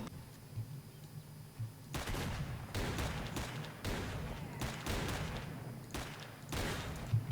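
Shotgun blasts in the game S.T.A.L.K.E.R. Clear Sky, a series of loud, broad booms spaced roughly a second apart, with faint background ambience between shots.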